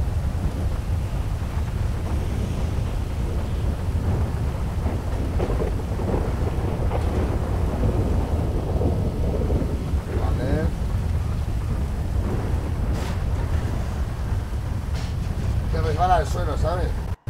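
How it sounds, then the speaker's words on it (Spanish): A video game thunderstorm fills the scene with heavy, constant rain and deep rumbling that roll along loudly. People talk now and then over the storm, and a brief warbling tone rises near the end. "Espera, hay tormenta, ¿eh?"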